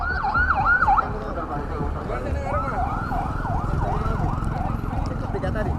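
A wailing ambulance siren whoops in quick repeated cycles, fairly close, over traffic rumble and light background noise.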